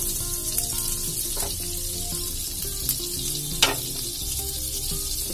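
A buttered bread sandwich sizzles on a hot tawa in an even, continuous fry with a few soft clicks and stirs, heard up close and alone.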